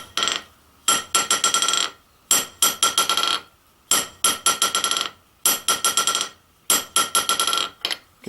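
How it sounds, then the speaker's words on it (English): Small hammer striking metal, sounding as rapid bouncing clusters of sharp, ringing taps, each burst starting with a hard hit and fading into quick rebounds, repeated about six times with brief pauses. "It's a good little hammer"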